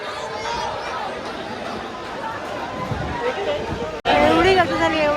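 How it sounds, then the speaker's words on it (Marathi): Dense crowd chatter at the Omkareshwar temple, a steady babble of many overlapping voices close around, swelling louder near the end. "एवढी गर्दी झाली, एवढी गर्दी आता"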